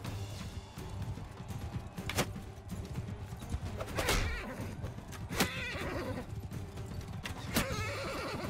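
In the video game Mount & Blade II: Bannerlord, several loud horse neighs and whinnies ring out over a steady game-like background rumble, spaced a second or two apart.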